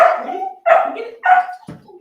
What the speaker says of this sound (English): Sorry about the Weber barking in the background.